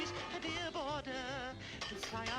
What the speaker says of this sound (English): this scene here with him chopping the cans